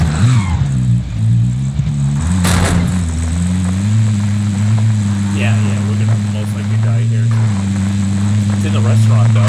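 Car engine humming steadily in Call of Duty Warzone, a droning motor tone that shifts pitch as the vehicle speeds up and settles, running throughout beneath people talking.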